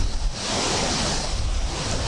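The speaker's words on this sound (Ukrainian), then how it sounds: "Вітер такий, друзі, на водомі" Strong wind roars across a lake, a continuous broadband rush with lapping waves, buffeting the microphone and drowning out everything else.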